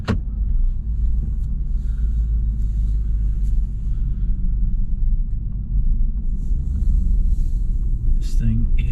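A 2006 Jeep Commander fitted with a new Hemi V8 engine drives along, a steady low engine and road rumble running throughout from the cabin, with a voice talking over it.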